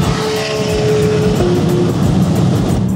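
A race car's engine on the Nürburgring, loud and close, holding a steady roar with a rising tonal whine as the throttle is pressed, continuous for a few seconds.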